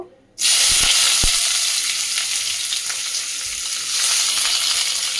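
Chopped onions hit hot oil in a kadai with a sudden loud sizzle that keeps hissing steadily and close, broken by a couple of light knocks of a utensil.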